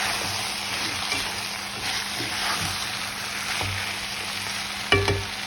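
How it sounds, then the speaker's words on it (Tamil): A spoon stirs spicy prawn curry in a hot pan, producing a continuous frying sizzle with soft scraping strokes and a sharper knock against the pan near the end. "நல்லா இப்படி இருக்க மிக்ஸ் பண்ணிவிடுவேன்"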